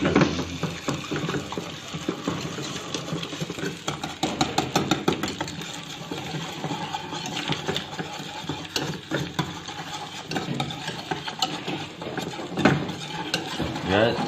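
Chicken vegetable fried rice stirred in a pan, a steady busy scraping and rattling of spatula against metal with sizzling underneath, continuous and close for the whole stretch.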